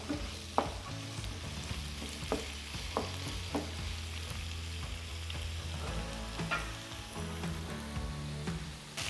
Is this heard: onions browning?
yes